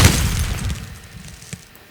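Gunfire in the Roblox heist game comes as a muffled boom amid rumbling noise, with a louder thump just before the end.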